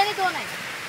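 A village waterfall near Ranewadi gives off a steady, full rushing roar through the short moment, while a person talks over it at the start.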